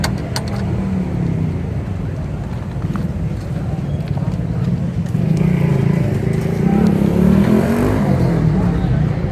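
A used Suzuki Cultus with a non-fuel-injected engine runs at a steady idle, its low, continuous hum heard up close while someone talks over it.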